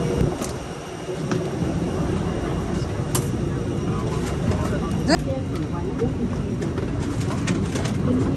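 A steady broadband roar of an airplane fills the background, with occasional faint bird calls and clicks over the top.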